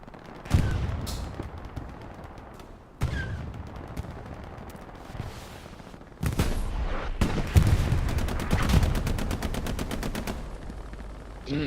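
Machine gun fire during a night match on Foy in Hell Let Loose, sharp loud bursts of rapid automatic shots in several separate volleys, echoing against a rumbling battlefield with no talking.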